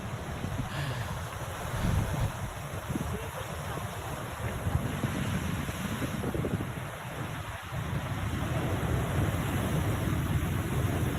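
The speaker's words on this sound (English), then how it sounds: "I like when the water hits the rocks and it makes the white splashy" Waves break and splash against rocks by the sea, a steady rushing surf roar with wind buffeting the microphone and no voices.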